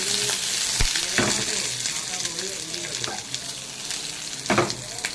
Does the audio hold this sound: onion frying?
yes